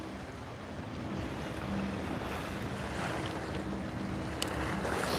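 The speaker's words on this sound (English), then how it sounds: "you guys heard the waves and stuff in the background" Steady ocean surf on the shore at Waikiki, a continuous broad wash of waves with wind buffeting the microphone, loud and unbroken with no talking.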